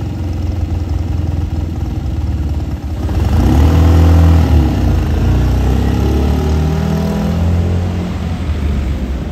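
Engine of a vintage Fiat Abarth driving on a Paris street, a loud, low idle that swells into a revving rumble as the car pulls away, with no voices.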